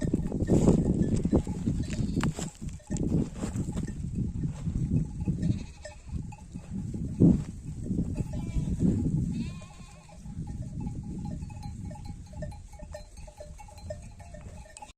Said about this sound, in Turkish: Evde üç tane minik kuzu ayırdım. Sesleri ta ahırdan buraya kadar geliyor.